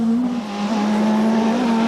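A Davrian rally car climbs the Inistioge hillclimb in 1998, its engine holding a loud, steady howl close by with a brief dip in pitch partway through, as if between gears.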